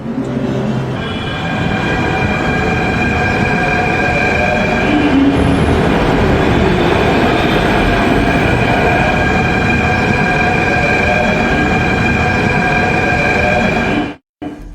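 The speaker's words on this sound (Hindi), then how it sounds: "मेट्रो शुरू हो गई है और कनॉट प्लेस में उसी तरह की चहल पहल नजर आने लगी" A Delhi Metro train runs steadily and loudly throughout, with a continuous rumble, rail noise and a faint high whine, close by, before cutting out abruptly near the end.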